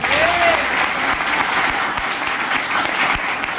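Enthusiastic audience applause fills the room at a motivational talk, a dense, steady wash of clapping hands that stays loud and even throughout, with no voices breaking through.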